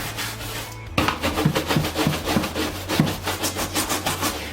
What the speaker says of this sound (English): And then I'm just going to start scrubbing some of this.